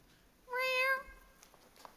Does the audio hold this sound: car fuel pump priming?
no